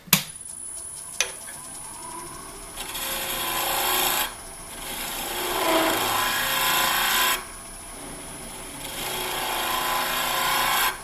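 A carbide woodturning tool cuts wood on a lathe, working from the inside outward. A couple of sharp taps are followed by loud, steady scraping passes separated by brief gaps, with no speech.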